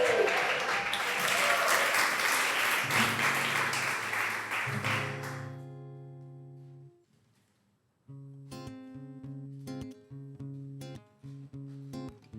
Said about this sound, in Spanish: quiero pedir un aplauso para Laura Weiss.